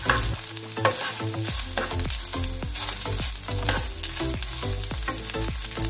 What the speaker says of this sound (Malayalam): ഇനി അത് നല്ല ചുവക്കൊക്കെ വറുത്തിട്ട്